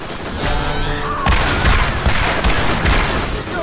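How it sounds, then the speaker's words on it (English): A rapid volley of rockets fired by an enemy in Borderlands, landing as a string of loud booms and crashes over a dense, roaring background of combat noise. "Holy shit, it shoots like five rockets at a time."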